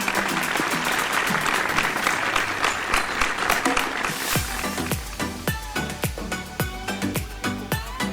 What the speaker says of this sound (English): Big, big round of applause to Honorable Mr. Michael R. Bradley.